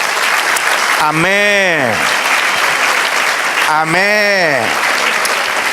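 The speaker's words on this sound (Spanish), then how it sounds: "Denle un aplauso al Señor." A church congregation applauds steadily through a Spanish-language service, with a voice twice calling out over the sustained clapping.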